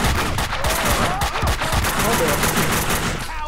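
Rapid gunfire in the shooter Max Payne 2, loud dense bursts of shots in quick succession over a busy game mix, with someone briefly speaking.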